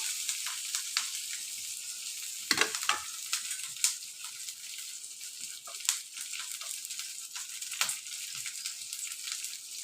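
Onion frying in a pan, a continuous bright hiss of sizzling oil with occasional soft stirring knocks and scrapes, fairly quiet and close, with no one speaking.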